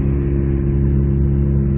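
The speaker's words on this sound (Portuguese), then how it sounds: "falha de motor" A car engine with a clogged fuel injector runs at a steady, loud idle, its low droning hum continuous and close, with no audible voices.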